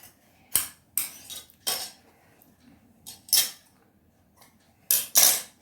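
Scissors snipping through the back neck of a girl's uniform top, a few short crisp metallic cuts in irregular pairs separated by quiet pauses, close and clear.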